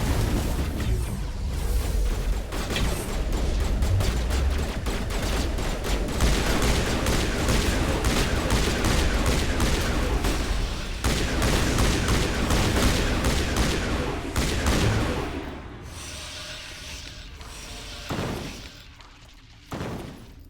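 Heavy sustained gunfire in the video game Mass Effect Legendary Edition, loud rapid bursts layered with booming impacts and shattering crashes, easing off near the end into scattered quieter shots.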